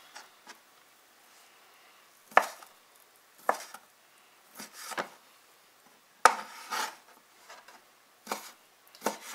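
Knife chopping off the ends of corn dogs for a corn dog casserole, a series of sharp, irregular cuts on a board, some single and some in quick pairs, fairly close and clear with no talk.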